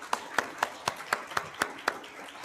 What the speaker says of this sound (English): Maybe we could do a little applause.